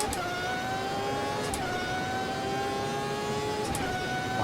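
A Formula V12 race car in the Automobilista racing game at Imola screams at high revs, its engine pitch climbing steadily with quick dips at gear shifts, loud and continuous with no talking.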